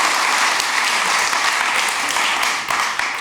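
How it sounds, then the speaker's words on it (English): An audience gives speakers a warm round of applause, dense steady clapping filling the room throughout at a strong level. "Give them a warm applause."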